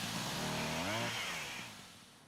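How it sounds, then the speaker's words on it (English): Chainsaw noise in Umamusume Pretty Derby, a loud revving buzz that swells briefly then fades out over about two seconds, heard alone at night. "That's a chainsaw."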